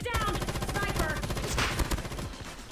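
Rapid automatic fire from an M13 rifle in Call of Duty Mobile rattles in a dense, steady stream of close, loud shots across the whole stretch, with a faint voice underneath.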